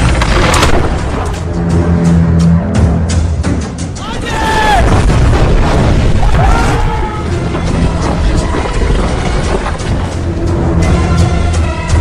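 Trebuchet siege engine firing in a dramatized battle at the siege of Constantinople, heavy booms and thuds under a dense layer of battle noise and music, loud and continuous, with voices in the mix.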